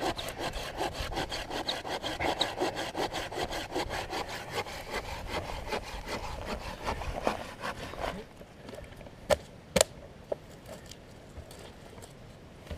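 A 7-inch Corona folding pruning saw cuts through wood with fast, steady back-and-forth strokes for about eight seconds, then stops, leaving a few sharp knocks and clicks in near quiet.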